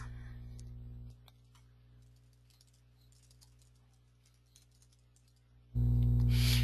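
Scattered, faint keystrokes on a computer keyboard as a name is typed into a client search field, soft irregular clicks over a low steady hum, ending in a sudden loud burst of noise.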